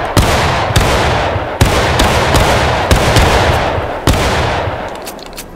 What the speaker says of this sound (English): Good volley, good volley.